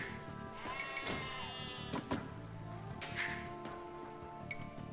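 Sheep bleat in the strategy video game Age of Empires 2, a few wavering bleats rising over a steady game soundscape with faint ticking, moderately loud and without talk.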